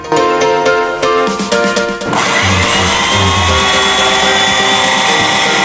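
Repaired Microbishi hand mixer powered on, its electric motor switching from a rattling start-up to a steady, loud, high-pitched whine that runs on continuously with no talk.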